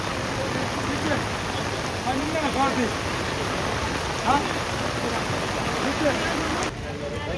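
Rain falls steadily over a fish market, a constant hiss of raindrops with faint voices mixed in underneath, easing slightly near the end.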